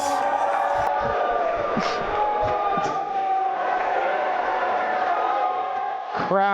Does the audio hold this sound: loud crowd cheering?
yes